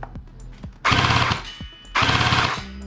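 Electric P90 gel blaster toy gun firing on full auto, two short bursts of rapid mechanical clatter close to the microphone, with brief quiet handling sounds between them.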